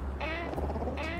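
A cat in the video game Little Kitty Big City purrs and trills with a steady, close, rumbling purr and two brief higher chirping calls over it, heard alone.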